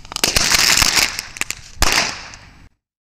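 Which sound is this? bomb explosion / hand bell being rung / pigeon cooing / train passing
bomb explosion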